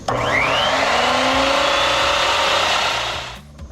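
A large power saw on a timber frame project roars to life and runs at a loud, steady high pitch, its motor whine rising briefly before cutting off at the end.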